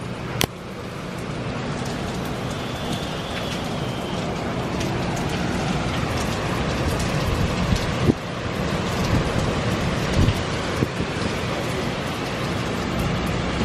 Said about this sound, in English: It's been constantly raining. It gets these spurts of really windy.